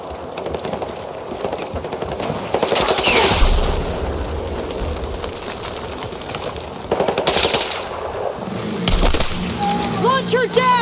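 Rapid automatic gunfire and loud bursts in a Battlefield 6 combat mission, with chattering machine-gun fire, a few heavy impacts and sharp cracks over a dense battle din, while soldiers shout orders.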